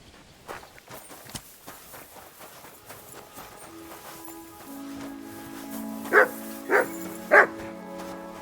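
The dog Mutt lets out three sharp, close barks in evenly spaced succession in Kingdom Come Deliverance II, after footsteps and light clopping steps.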